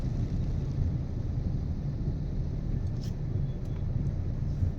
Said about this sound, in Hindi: बाकी आज बारिश है तो ट्रैफिक भी काफ़ी है।